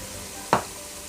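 A single short burst of sizzle as turmeric hits hot brinjal gravy masala in a pot, rising sharply then fading over a low steady background.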